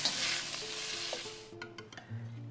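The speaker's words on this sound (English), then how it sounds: "cast iron wok ring that holds our wok in place while we do this high heat stir frying" High-heat stir frying in a wok held in a cast iron wok ring on a sealed-burner range, a loud steady sizzle with scraping stirs that fades into lighter clatter and tossing sounds.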